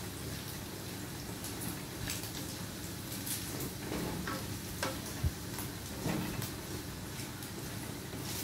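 Garlic frying in a pan for adobong sitaw, a faint steady sizzle with occasional light clicks and stirring scrapes, no voices.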